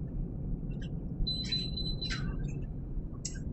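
A kitchen stove emits a single high electronic beep held for about a second over a low background rumble, followed by faint chirps.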